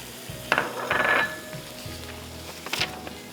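Brown vermicelli hits a hot pan and is stirred, giving a soft sizzle with scraping stir strokes, a few brief louder bursts near the start and end, fairly quiet overall.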